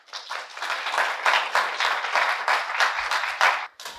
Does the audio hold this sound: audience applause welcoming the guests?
yes